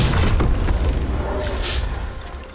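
Video game gunfire and booms crack out in loud, close bursts, overlapping into a dense, rumbling barrage with no talk over it.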